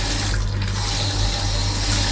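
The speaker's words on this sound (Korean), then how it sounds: "물이 굉장히 수압이 세게 나오고요" Shower aboard a liveaboard dive boat in Egypt running at strong pressure, a loud, steady hiss of spraying water heard up close and continuous throughout.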